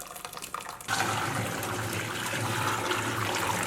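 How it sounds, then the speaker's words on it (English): Water pours and drains out of rinsed ground beef in a kitchen, a sudden steady rush of running liquid that starts after a quiet moment and continues evenly up close. "Let's lift the top part off so the water can drain."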